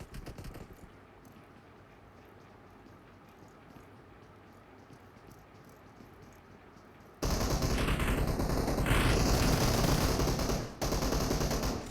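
Sustained automatic gunfire in the mobile battle-royale game Battlegrounds Mobile India during a custom esports practice scrim, quieter at first, then a loud dense burst of rapid shots from about seven seconds with a brief dip near the end.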